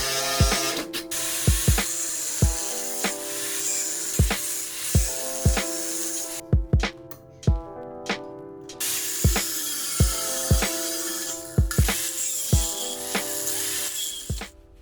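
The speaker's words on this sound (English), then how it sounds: "Let me grab my Sawzall and start cutting." Sawzall reciprocating saw cutting through the steel frame of a 1985 Honda Magna VLX600 in a chopper build, a steady buzzing cut broken by repeated sharp knocks and clanks, close and fairly loud with a brief pause midway.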